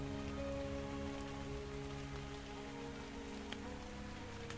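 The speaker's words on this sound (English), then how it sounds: "It's like sunny and rainy." Rain falling steadily in ARK, a constant close hiss of drops on surfaces with a few faint louder patters, no voices present.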